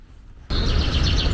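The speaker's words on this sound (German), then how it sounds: "Die Vögel zwitschern." Birds chirp outdoors on a spring morning walk: a burst of steady background noise starts partway through, with brief, repeated high tweets scattered over it.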